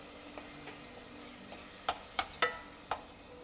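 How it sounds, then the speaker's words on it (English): Margarine melting over low heat in a pan for chocolate date squares, stirred with a few soft scrapes and light knocks, quiet at first and then four sharper taps close together near the end. "So then we're gonna melt that all the way until the margarine is completely"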